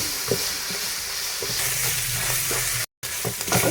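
Spoon stirring black pepper, cumin and chicken powder into chicken for a malai boti samosa filling, a steady scraping and sizzling in a pan with soft clicks, close and continuous, briefly cut off near the end.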